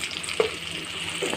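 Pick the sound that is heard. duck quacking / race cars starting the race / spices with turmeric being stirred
spices with turmeric being stirred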